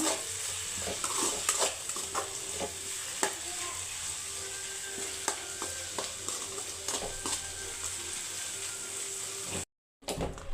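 Sprouted moong bean chitranna being stirred in a hot pan, with a steady sizzle under repeated scraping strokes of a spoon against the metal, close and continuous, cut by a brief silent gap near the end.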